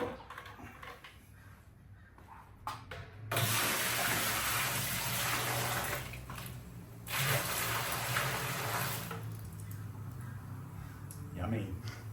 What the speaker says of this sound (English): I'm doing this very slowly again, just so that the grapes get completely squished and not mis-squished, so that we get maximum amount of juice